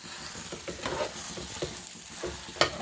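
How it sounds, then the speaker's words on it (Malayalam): Beef biryani mixture with cooked tapioca is stirred in a hot pan, giving steady scraping and soft sizzling throughout, with a sharper scrape near the end. "തയ്യാറാക്കി വെച്ചിരിക്കുന്ന കപ്പ നമുക്ക് ഇവത്തിലേക്ക് ഇട്ട് ഇളക്കാം"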